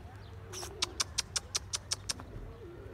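Tumbler pigeons giving a quick run of about nine evenly spaced, sharp calls at close range over a low steady hum, preceded by one longer note.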